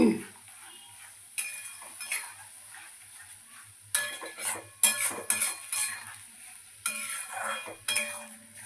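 Spiced curry of pointed gourd, soya chunks and potato with salt, turmeric, sugar and chilli powder stirs and fries in a pot, a metal spoon scraping and clinking in repeated bursts over a faint, steady sizzle.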